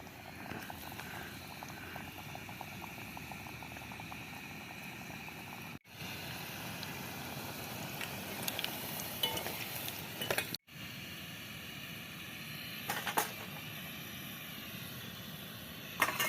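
Bhajiya fritters frying in oil at a forest campsite, a steady dense sizzle and bubbling hiss throughout with occasional faint clinks and two brief dropouts.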